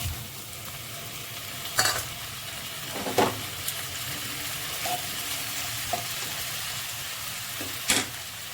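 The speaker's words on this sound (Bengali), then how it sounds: "টমেটোটা এবার একটু ভেজে নেব" Soft, steady sizzling of chopped tomato frying in a pan, broken by a few sharp scraping stirs against the pan.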